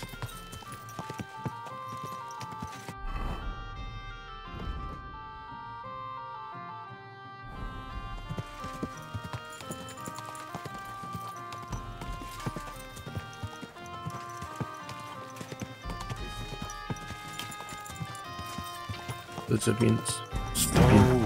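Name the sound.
horse hooves clip-clopping, from a video game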